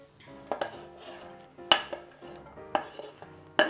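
Carrot pieces clatter into a metal cooking pot of vegetables with several sharp knocks and scrapes at irregular intervals, close by, without talking.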